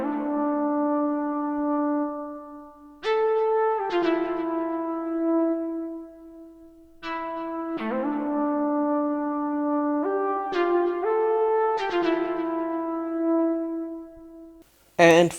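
A synth flute patch from Purity plays a slow violin-like melody, its sustained tones shifting pitch in a few phrases separated by short gaps, mostly clean and unaccompanied.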